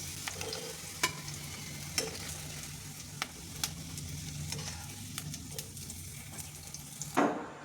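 Onions and green chillies sauté in a pan with a low, steady sizzle, punctuated by sharp clicks of a spoon scraping and stirring about once a second. No voices.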